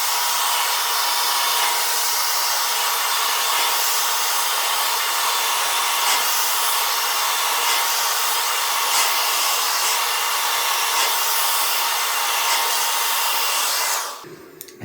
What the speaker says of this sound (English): we're essentially drying it back into the side